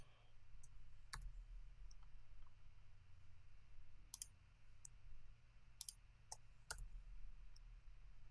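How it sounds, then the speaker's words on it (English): Scattered sharp clicks of computer keyboard number keys being pressed to apply star ratings in Lightroom Classic, single and paired taps at irregular intervals over a quiet low hum, close but faint. "I'm just pressing either the 1, 2, 3, 4, 5 key on my keyboard to apply these ratings"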